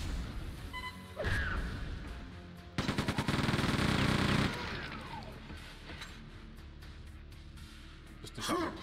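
Gunfire in the shooter Quake II: Ground Zero: a single sharp shot, then a loud, rapid burst of fire lasting over a second, and another blast near the end, with quiet ambience between.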